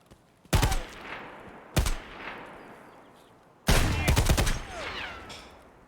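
Automatic gunfire in Escape From Tarkov: three loud, sharp bursts of rapid shots, two short ones followed by a longer sustained burst, each leaving a decaying echo.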